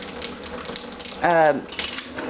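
Tap water runs steadily through a Pur faucet filter with a soft continuous rush. A brief squealing, tonal whine rises from the plumbing partway through.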